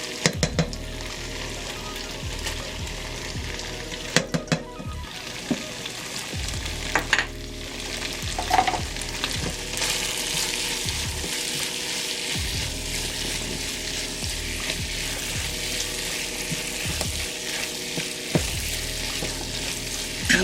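Tomato paste cooks in a pan for shepherd's pie, a steady close sizzle and frying crackle with occasional stirring scrapes and clicks, no voices.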